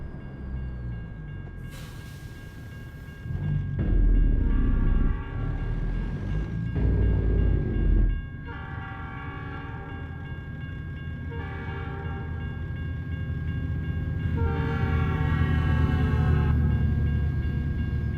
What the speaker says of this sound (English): A train coming.